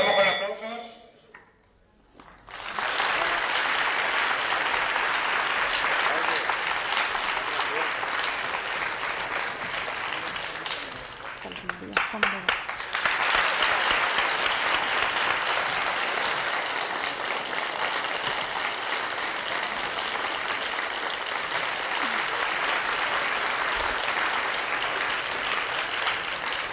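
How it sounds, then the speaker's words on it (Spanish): A large audience bursts into loud, sustained applause at a music and opera program, with a brief dip midway before the dense clapping swells again and continues to the end. "Ahí empezamos con aplausos."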